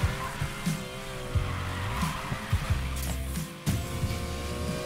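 Tire squeal from a car drifting in the Need for Speed Payback video game, with a racing engine revving and shifting under sustained, wavering screeches from the tires.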